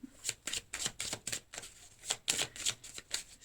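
Tarot cards being shuffled and dealt out, a quick run of crisp flicking riffles and snaps in uneven bursts, close and alone with no talking.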